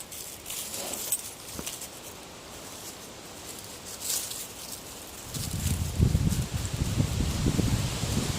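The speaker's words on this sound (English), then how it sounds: "Wind's not helping." Wind blows outdoors while cedar bark is stripped from a tree, a broadband rushing with leafy rustle that swells into stronger low gusts and microphone buffeting in the latter part.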